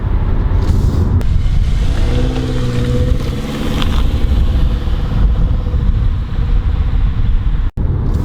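A 2020 Subaru Levorg GT 2.0L engine hums steadily from inside the cabin, revving up and easing off as it drives along twisty Scottish back roads.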